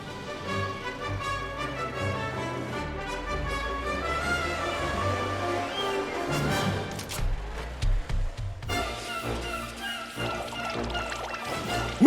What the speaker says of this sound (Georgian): ცხელა, ახლა ცივწყალს დავლებდი.